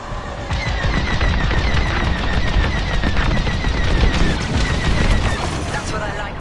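Dense, continuous gunfire and incoming missile salvos in a space combat video game, loud and unbroken rattling bursts layered over a steady roar.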